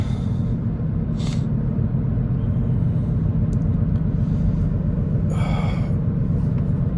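A 2007 Mazda 3 SGT with a 5-speed manual cruising in 4th gear, a steady low engine drone and road rumble inside the cabin, with faint brief hisses over the continuous hum and no talking.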